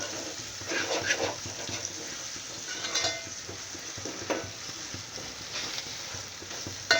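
Onion and tomato masala frying in a pan for chicken biryani, with a continuous soft sizzle and repeated scraping stirs of a spoon, moderately close and without talk.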